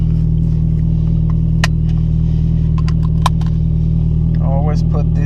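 A Chevrolet Cruze engine idles after a cold start, a loud steady low hum running throughout, with faint clicks and brief noises over it.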